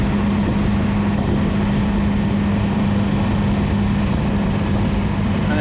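A TDI-swapped diesel Toyota engine pulling a car hauler carrying a 73 Scout II, a loud steady low drone held at constant pitch, accelerating smoothly in a single gear with road noise underneath and no talk.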